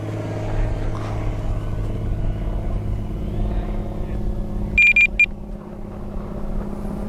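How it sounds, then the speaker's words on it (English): An FMS F-18 70mm electric ducted fan model jet spools up under throttle, a continuous whooshing whine over a rumbling background, with a brief sharp tonal beep partway through. "Cut it, give it throttle, cut it, give it throttle."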